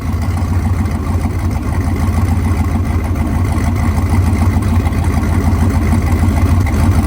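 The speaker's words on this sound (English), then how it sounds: "All right, you guys are gonna hear the trans brake for the first time." No-prep drag race car engine idling with the trans brake engaged, a steady loud rumbling drone that holds evenly throughout with no talk.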